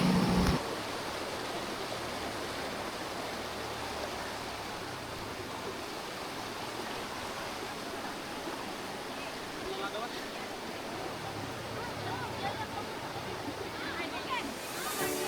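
River water flowing steadily at a spring resort in Dagami, Leyte, a broad continuous rush heard close and unbroken, with a voice briefly audible at the start.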